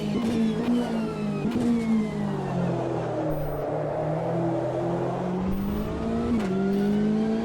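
Race car engine in a racing sim, Le Mans Ultimate or Automobilista 2, on a lap: a loud, steady engine drone whose pitch sweeps up and down through gear changes, with sharp shift clicks and no talking.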